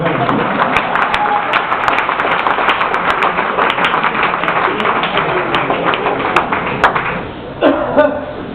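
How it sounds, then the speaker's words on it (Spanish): A live comedy audience at an improvised stand-up show in Spain breaks into sustained clapping and applause, a dense, steady patter of many hands that holds for several seconds before thinning out near the end. "Un aplauso, por favor"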